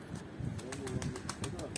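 Low pigeon coos rising and falling in short phrases, close by, with sharp rhythmic clicks and a voice talking underneath.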